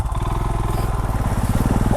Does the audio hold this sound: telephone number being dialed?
no